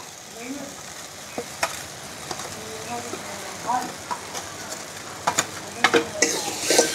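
Stuffed pointed gourd fries with green chilli paste, turmeric and chilli in a pan over an outdoor wood fire, giving a low sizzle broken by scattered sharp crackles and pops that grow busier toward the end.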